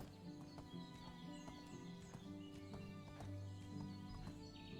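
A ridden horse in the medieval life sim Medieval Dynasty, hooves clip-clopping steadily and close for the whole stretch, set over a continuous bed of game music and outdoor ambience.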